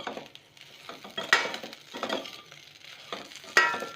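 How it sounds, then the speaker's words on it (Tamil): Spoonful of ghee poured over podi mini idli in a hot pan, giving soft sizzling with scattered spoon scrapes and metal clinks against the pan, close and fairly quiet. "நான் கடைசியாக வந்து ஒரு ஸ்பூன் நெய் விட்டு ஆஃப் பண்ண போகிறேன்."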